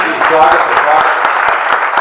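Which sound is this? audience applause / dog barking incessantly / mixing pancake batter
audience applause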